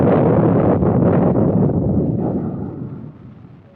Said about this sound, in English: the U.S. Navy test-fired the ship-to-air Talos guided missile